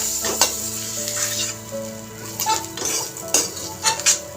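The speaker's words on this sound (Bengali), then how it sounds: "দেখেন পনির ভেজে নিয়েছি। এই পনিরগুলিকেও নামিয়ে নেব।" Paneer frying in a pan, a close steady sizzle with a metal utensil repeatedly scraping and clinking against the pan, loud stirring bursts scattered throughout and no talk.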